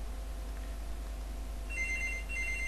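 A house telephone rings faintly in another room, a couple of short electronic trill bursts rising over a low steady hum, distant and quiet with no talk.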